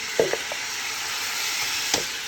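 Short ribs sear in a pot with a steady, close hiss of sizzling fat, broken by a few soft knocks and scrapes of a utensil against the pot.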